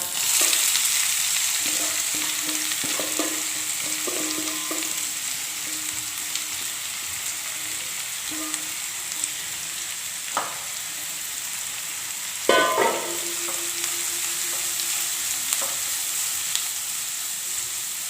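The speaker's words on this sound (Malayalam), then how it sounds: "ഇനി നമുക്ക് ഉള്ളി ഒന്ന് വറുത്തെടുക്കണം" Onions fry in coconut oil in a pan with a continuous, fairly loud sizzle. Occasional scrapes and taps from stirring break through, and no one talks.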